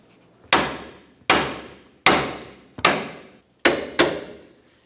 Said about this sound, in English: Use a hammer to give this a couple loving bonks to try to break it free.